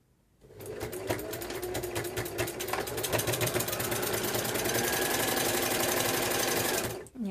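A sewing machine runs steadily at close range for several seconds, its rapid needle stitching reversing over a mitered binding corner, starting after a brief pause and stopping near the end.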